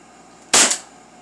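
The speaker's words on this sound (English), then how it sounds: "As you can see, it fires. This is a CO2 powered handgun." A CO2-powered handgun fires a single sharp shot, loud and close, with a short bright crack that decays quickly into quiet.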